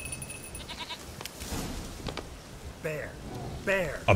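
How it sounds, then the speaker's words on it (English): Goat bleating in The Witcher 3: Wild Hunt, several short wavering bleats near the end, over game ambience while a person talks. "You stupid fucking goat!"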